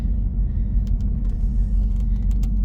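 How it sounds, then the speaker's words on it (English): A 1988 Mercedes-Benz 560SL drives along, its engine and road noise forming a steady low rumble heard from inside, with faint ticks and clicks over the top. "we are going to drive this 1988 560 SL."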